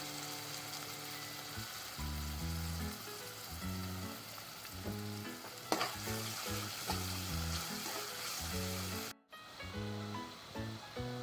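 Coriander and asafoetida are dropped into hot oil for tempering while making kantola (spiny gourd) bhaji, producing a steady close sizzle under repeating background music, with a brief cut near the end.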